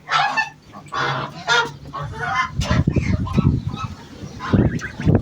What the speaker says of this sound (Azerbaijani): Bu da satılacaq qazlardır